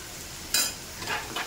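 Quiet stirring and scraping of green jackfruit being sautéed in a wok, with a few short bursts of frying sizzle standing out over a soft background hiss.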